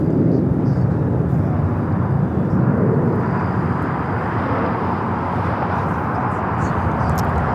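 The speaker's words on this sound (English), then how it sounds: "This flight, A321neo with United, flight 2488 coming in from Chicago." United Airbus A321neo on arrival from Chicago, a loud steady broadband jet roar that holds throughout, close and dense with no talking.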